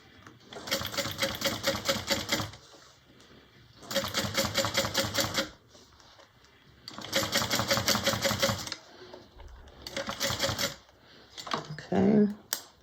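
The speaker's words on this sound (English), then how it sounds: "when you top stitch next to the zipper tape, that you kind of pull on the zipper tape a little" A sewing machine top stitches next to zipper tape on a bag, running in four loud rapid bursts of several seconds each, separated by quiet pauses with faint handling noises.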